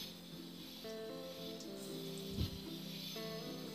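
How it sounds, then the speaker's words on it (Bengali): Lentil fritters (dal bora) fry in oil over a medium flame. A quiet, steady sizzle runs through the whole stretch, with a faint hum over part of it and a small bump near the middle, and no talk. "এরপর পরের ব্যাচটাকেও সেমভাবে অল্প অল্প করে দিয়ে বেশ লাল লাল করে আমি ভেজে নেব মিডিয়াম ফ্লেমে"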